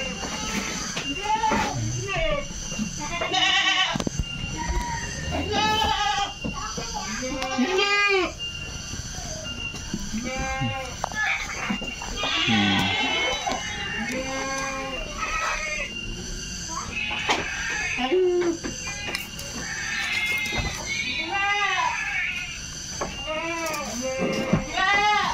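Boer goats on a farm bleat repeatedly, several wavering calls overlapping one another at close range, with steady background noise between the cries.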